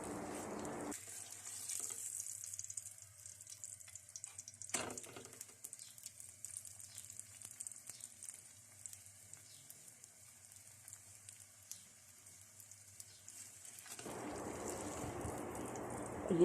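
A rice and potato paratha frying in a pan gives a faint, steady sizzle with one sharp click partway through, after louder kitchen noise at the start and end.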